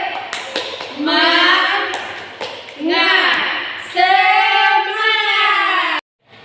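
A classroom ice-breaking 'tepuk semangat' routine, with rhythmic clapping bursts alternating with loud, drawn-out chanted vocal phrases, ending abruptly in silence.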